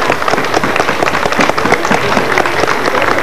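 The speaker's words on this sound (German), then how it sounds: "einen riesen Applaus" Dense, loud audience applause for two performers on stage at a folk music parade in Adldorf, a steady unbroken wash of many hands clapping with no voices.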